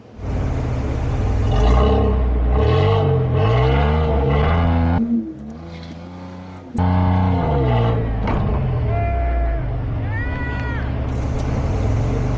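A Dodge Ram truck engine revs in rising and falling surges while pulling another truck across beach sand, loud and close, briefly dropping off midway before climbing again.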